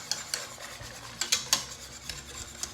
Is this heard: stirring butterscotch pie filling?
yes